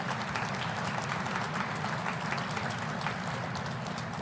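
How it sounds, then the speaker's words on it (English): A crowd at the Wisconsin State Capitol holiday tree lighting applauds in a steady, even wash of clapping, moderately distant and sustained throughout without a clear rise or fall. "How about a round of applause for those folks"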